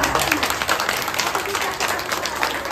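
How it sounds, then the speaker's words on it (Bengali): Applause rises from an audience at a Rabindra Jayanti stage programme after a comic play, a close, steady crowd of clapping hands with faint voices mixed in. "অঙ্কনের জন্য জোরে হাততালি একটা"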